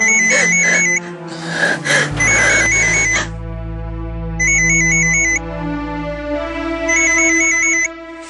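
A phone's electronic ringtone trills loud and close in repeated bursts over a sustained musical drone, with a brief gasp early on.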